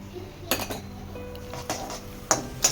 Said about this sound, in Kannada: ಇವಾಗ ನಾನು ಇದಕ್ಕೆ ದ್ರಾಕ್ಷಿ ಗೋಡಂಬಿ ಹಾಕ್ಕೊಳ್ತಾ ಇದ್ದೀನಿ